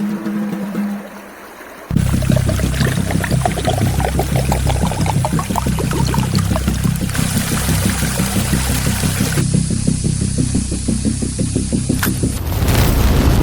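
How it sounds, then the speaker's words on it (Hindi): In an animated horror tale, oil poured from a drum onto a bridge pillar sets off a fire: a quiet start breaks into a sudden loud, sustained rushing roar that continues steadily to the end. "तेल डालते ही जैसे ही थोड़ी सी आग लगी, सब जगह धधकने लगी।"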